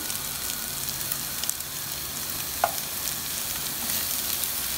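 Sliced onions frying in a pan until golden, a steady, fairly loud crackling sizzle that holds throughout, with a single faint clink of a utensil partway through and no talking.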